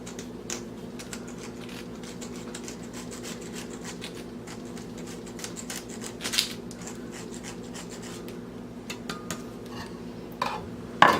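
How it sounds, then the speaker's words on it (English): Hard Parmesan cheese grated over a baked eggplant parmesan topped with sauce, a steady close rasping scrape repeated in quick strokes with a few louder knocks, no talk. "we've got to grate some Parmesan cheese on top"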